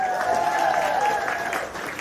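Steady applause and cheering from an audience at a Corona, California State of the City event fill the whole stretch at an even, loud level, with a voice faintly carrying over the crowd.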